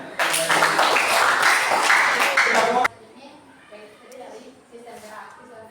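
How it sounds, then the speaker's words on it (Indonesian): Students applauding in a biology classroom, a burst of lively close clapping for under three seconds that cuts off abruptly, followed by quiet children's voices talking in the room. "Ya, tepuk tangan."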